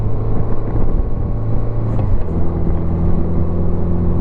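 A 1987 Honda GL1200 Goldwing motorcycle on its first ride after repairs, a steady engine drone with a shift in pitch partway through, loud and continuous, with no talking.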